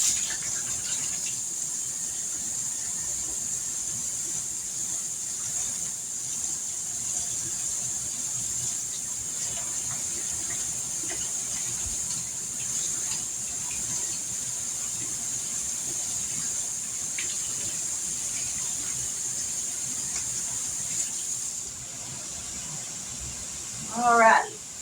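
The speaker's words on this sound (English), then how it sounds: "Let me wash my hands now" Tap water running steadily while hands are washed in a kitchen sink, a constant close hiss and splash with a brief louder burst at the end.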